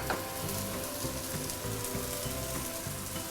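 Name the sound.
stir-frying spices, ginger and garlic in a pan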